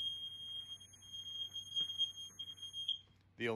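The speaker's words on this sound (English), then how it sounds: "the alarm goes off" A tank level float-switch alarm: a piercing high-pitched tone sounds continuously, then cuts off near the end, followed by a brief burst of another sound.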